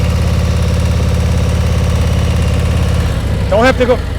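A motorcycle engine idles with a steady, low pulsing throb during slow-speed riding practice; near the end a brief sharp whistling chirp cuts in over it.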